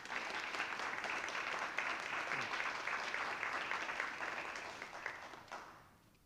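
Applause from an audience at an alumni awards dinner, steady and sustained for about five seconds before fading out, with no talking.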